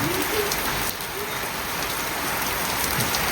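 Steady rain pours down over a village, a dense, even hiss of drops striking surfaces that stays close and constant from start to finish.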